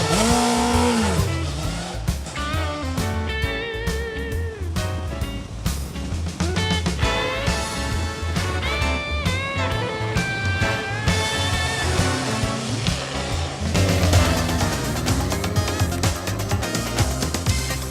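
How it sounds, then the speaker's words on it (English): A Kawasaki Ninja motorcycle engine roars and howls through repeated rising revs and gear changes, loud and close, with a throaty growl from the airbox intake under the tank. "Responsible is that musical airbox under the tank, making the most wonderful noises."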